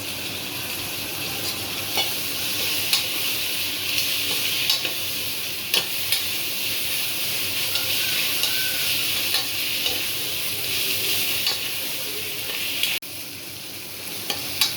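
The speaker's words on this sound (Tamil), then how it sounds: "இஞ்சி பூண்டு வதங்கிச்சு வெங்காயம் வதங்கிச்சு" Ginger, garlic and onion sautéing in a pan give a steady sizzle for the whole stretch, with scattered scrapes and taps from stirring. No voices.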